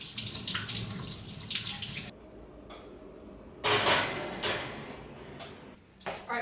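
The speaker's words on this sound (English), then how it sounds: "we can also put a pan or like a bowl at the bottom and fill it with warm water" Warm water runs from a kitchen tap into a pan in an apartment kitchen, a steady rushing stream in two bursts separated by a quieter pause, with faint clinks.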